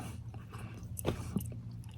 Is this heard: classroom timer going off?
no